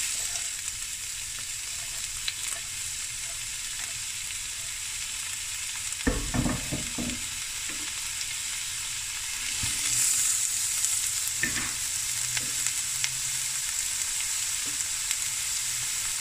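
Two large onions fry in oil in a pot, a steady close sizzle with a few bursts of stirring and scraping partway through, no talking over it.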